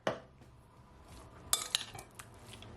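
Metal spoon clinking against a pot while mixing all-purpose seasoning and black pepper into stewed peas, a sharp knock at the start, then a few quiet scrapes and two bright clinks, close and faint.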